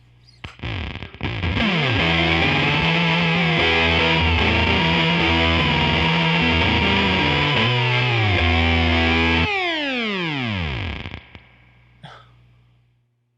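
A guitar riff played through a Beetronics Swarm fuzz pedal, with the sting knob at noon and the flight control off, comes out as thick, buzzing, synth-like fuzz, loud and sustained, then ends in a warbling, swooping decay.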